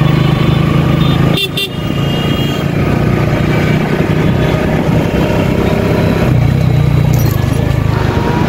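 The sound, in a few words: motorcycle riding through night traffic with horns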